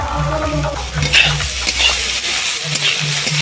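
Half-boiled kohlrabi fries with chopped potato, raw onion and five-spice in a village kitchen, a close, loud sizzle with stirring scrapes throughout, under a faint rhythmic musical tone.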